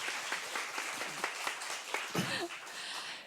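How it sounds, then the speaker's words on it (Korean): A book concert audience claps to welcome a performing music group onto the stage. The applause is a dense, even wash of many hands at moderate distance, with a brief voice near the end. "박수로 맞아주세요"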